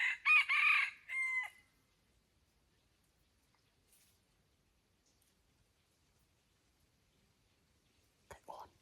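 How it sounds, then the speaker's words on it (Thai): A wild junglefowl rooster crows before dawn, one loud, close call of about a second followed by a shorter tail, then long quiet with a faint, brief sound near the end. "เสียงไก่กุก ๆตอนแรงประมาณ 3:30 น."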